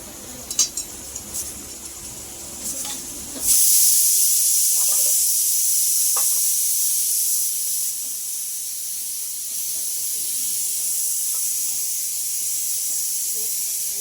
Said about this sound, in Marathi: तेलामध्ये पाच ते दहा मिनटं हा मसाला भाजून घेत आहे